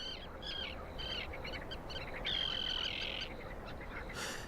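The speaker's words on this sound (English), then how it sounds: "the sound of prayer is broken by the calls of thousands of birds" Many migratory birds call across Skadar Lake, with repeated chirps, one longer clear whistle in the middle and a brief harsh burst near the end, over a constant background hiss of the outdoor setting.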